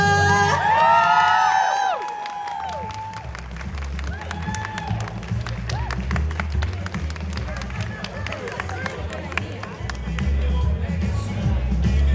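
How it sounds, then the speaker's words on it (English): Crowd cheering, whoops and applause at a pinup pageant as a runner-up is called to the stage, loud and sustained throughout with shouts rising early and a dense clapping wash continuing. "Another round of applause, shall we, for Lil Miss Mona."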